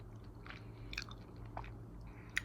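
Close crunchy chewing of a cinnamon pastry made without milk, flour or eggs, with soft irregular bites and mouth sounds over a low steady hum and no talk.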